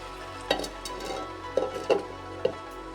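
A spoon stirring avial vegetables in a pan for a Kerala-style Onam sadhya dish, giving a few scraping clinks against the pan over a faint steady background, with no talking.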